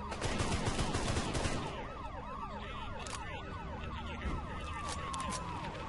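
A police siren wails in rapid repeating sweeps inside the RamBo video game, mixed with bursts of gunfire and busy in-game noise, loud and continuous.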